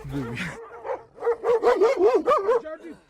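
Farm dogs bark in a quick run of loud, close yelps and barks during a sheep drive at 3,000 meters on a rough mountain road, with someone talking over them.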